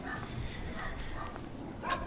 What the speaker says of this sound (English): Like right now, the dog barking is not making me happy. It's loud, it's scary, it's in my face.